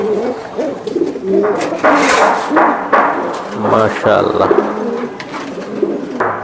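A female racing pigeon coos in low, throaty bursts while held close, under people talking loudly over it.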